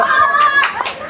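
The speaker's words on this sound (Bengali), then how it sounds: "সবার কাছে হাতের তালি চেয়ে নেব।" An audience at a comedy stage show claps in a few loose, close bursts of hand claps, heard briefly with voices mixed in.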